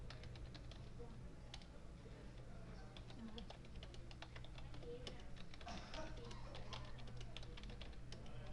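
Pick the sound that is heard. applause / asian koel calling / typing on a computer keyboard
typing on a computer keyboard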